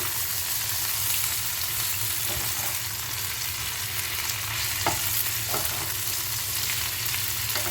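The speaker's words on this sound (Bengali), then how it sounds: "এবার মেখে রাখা ভেন্ডিগুলো এর মধ্যে দিয়ে হালকা করে ফ্রাই করে নেব" Marinated okra (bhindi) frying in oil in a pan, a dense continuous sizzle and crackle heard up close, with a few soft stirring scrapes breaking through the steady hiss; no one speaks.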